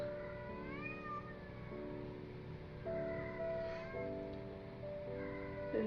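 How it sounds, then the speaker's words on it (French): A house cat meows somewhere in the background, faint and distant, with a few drawn-out cries over a steady low room hum. "je suis vraiment désolée pour le chat qui miaulait"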